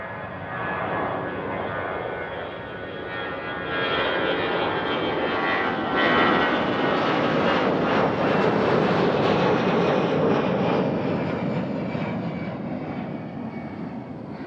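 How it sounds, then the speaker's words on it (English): A Lufthansa Airbus A350 heavy takes off from runway 23 at Toronto airport, its jet engines a loud, steady roar that swells midway and then slowly eases, heard alone at a distance. "Next departure is an A350 to Munich."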